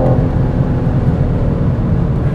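BMW M4 Competition Coupé accelerating hard in automatic mode without paddle shifters, a loud, steady engine drone heard from inside the cabin, continuous through the whole moment.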